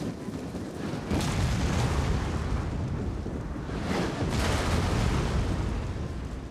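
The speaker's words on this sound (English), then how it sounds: "after I finished firing ballista shots at them" Ballista shots in a Total War: Rome 2 battle, heard as a continuous roaring rumble with two broad whooshing surges, loud and dense throughout with no talk.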